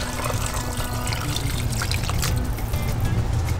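Warm shrimp and fish stock is poured into a Dutch oven, a steady close splashing trickle of liquid that runs continuously throughout.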